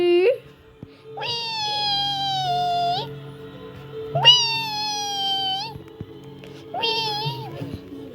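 A kitten meows three times in drawn-out, rising-and-falling cries, close and fairly loud, while someone speaks briefly in between.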